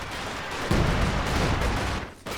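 An artillery barrage from a ZiS gun in Company of Heroes 2 rumbles through a dense stretch of booms and gunfire. It swells after a brief lead-in, drops away for a moment near the end, then picks back up.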